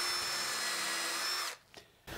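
A power drill bores into solid wood held over a hole in a workbench, whining steadily and loudly for about a second and a half before cutting off, followed by a few faint knocks.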